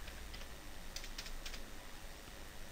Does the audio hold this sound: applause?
no